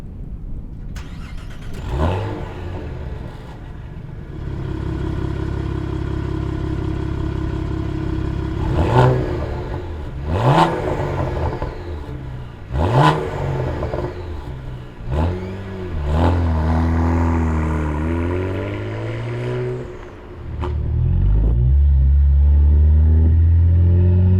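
A 2022 Cadillac CT4-V Blackwing drives on a small back course, its engine rumbling steadily and surging through several loud revs and gear changes, with rising pitch sweeps and a heavy throaty roar near the end.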